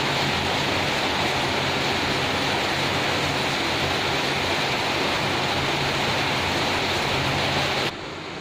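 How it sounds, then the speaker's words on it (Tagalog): Steady, dense hiss of rain pouring down, constant and fairly loud throughout with no voices, cutting off abruptly near the end. "Patak ng ulan."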